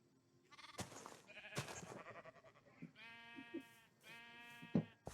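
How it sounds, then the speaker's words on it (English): Sheep in Minecraft give a couple of nasal, wavering bleats in the second half, clear and fairly close, following some earlier clicks and rustling game sounds. "I've got one extra sheep."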